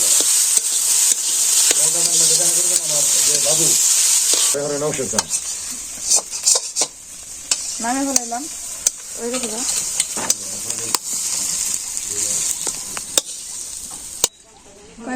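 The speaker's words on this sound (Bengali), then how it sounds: "তেল দিয়ে দিলাম লবণ মরিচ হলুদের ফাঁকি দিয়ে একবারে ভালো করে মেখে নিলাম" Oil sizzles steadily in a pan as food is mixed with salt, chili and turmeric, with occasional scrapes and clinks of stirring, under someone talking through most of it.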